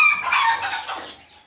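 Chickens clucking at a farm market with goats and cows nearby, a short burst of bright, busy poultry calls that is loud at first and then tapers off.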